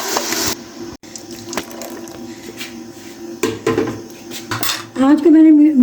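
Carrot paste goes into a hot kadhai with ghee, making loud, close metallic clattering and scraping, with a wet splashing burst and a ringing squeal toward the end.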